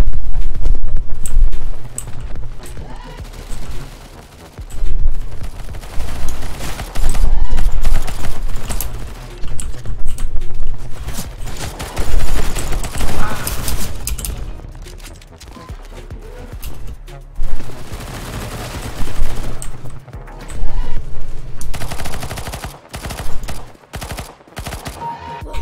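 Rapid bursts of gunfire from a gun in the video game CS:GO, loud and close, sustained volleys with short gaps across the whole stretch, with no talk over them.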